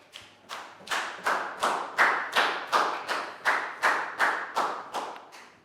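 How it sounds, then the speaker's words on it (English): A class of students claps in a steady, even rhythm, about a dozen loud claps spaced evenly, with no talking. "Big round of applause for Pat."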